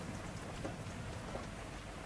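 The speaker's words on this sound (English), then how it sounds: "That's rain." Steady rain pours down in a continuous, even hiss, a dense wash of drops with no voices and no distinct thunder claps.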